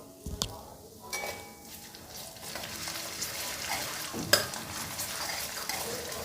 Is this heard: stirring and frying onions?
yes